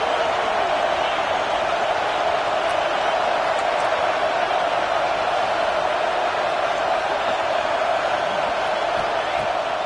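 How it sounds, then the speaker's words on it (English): A packed stadium crowd at an Oregon vs UCLA football game roars steadily and loudly, a dense continuous wall of cheering with no letup. "Listen to this crowd just shaking the girders of this place"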